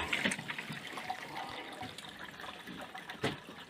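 Water is poured from a tap into buckets set out for fattening bulls in a barn, a soft steady trickle and splash that stays fairly quiet with a couple of brief louder splashes.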